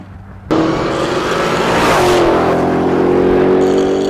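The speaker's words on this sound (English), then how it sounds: "Let's go take this thing for a drive." A 2018 Dodge Demon bursts into a loud rev and pulls away, its engine roaring and climbing in pitch, then holding a strong, sustained drone as it accelerates.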